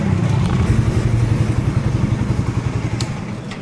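A motorcycle rides along with a loud, close, steady engine drone and a pulsing exhaust throb, with no talk over it.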